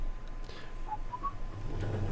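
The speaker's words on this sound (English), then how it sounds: "I shouldn't whistle into the microphone" A person whistles a few short, clear notes into a microphone while playing a farming game, brief rising and falling pitches over a low background hum, close and fairly faint.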